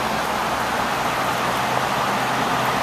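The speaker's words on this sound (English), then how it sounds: "It is a rainy day in Maryland." Rain falling on a rainy day in a Maryland neighbourhood, a dense continuous hiss that stays loud and even throughout with no voices over it.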